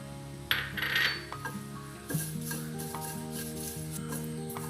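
Curry leaves dropped into a hot pan for idli milagai podi, with a short sharp sizzle burst early on that settles under steady tonal background music.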